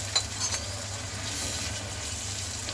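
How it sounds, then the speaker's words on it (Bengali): Onions frying in a pan with ginger-garlic paste for a Bengali shrimp bhuna, giving a steady, soft sizzle with faint stirring clicks throughout, no voices. "এবার পেঁয়াজের সাথে ভুনে নিব যতক্ষণ পর্যন্ত আদা রসুনের কাঁচা গন্ধটা চলে না যায়"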